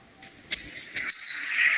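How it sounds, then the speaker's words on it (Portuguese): Cricket chirping close by at night, a bright high trill that begins in short bursts and then settles into a steady ringing stream, with no voices over it. "Ó o grilo tocando."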